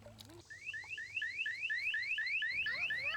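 A Safety Turtle pool alarm sounds, triggered by a child's wristband getting wet: a rapid series of about a dozen rising electronic whoops, loud and insistent, following a brief lower tone at the start.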